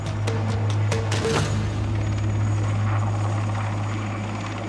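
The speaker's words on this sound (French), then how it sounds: "Seule solution, descendre en rappel d'un hélicoptère." Helicopter hovering steadily overhead while troops prepare to descend from it by rope on a Foreign Legion selection course, a loud continuous rotor drone with a low thumping throb, briefly topped by a few sharp clicks near the start.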